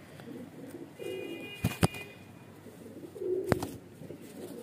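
Baby highflyer pigeons give soft, low coos in two short spells, with a few sharp thumps and flutters as a bird is handled nearby; no voices.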